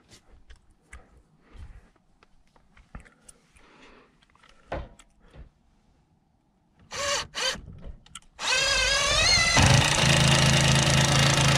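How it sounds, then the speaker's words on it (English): Quiet tapping and handling noises, then a few short hammer drill bursts driving screws in an attic, followed by a loud sustained whine of the drill running continuously up close. "Gotta love the hammer drill."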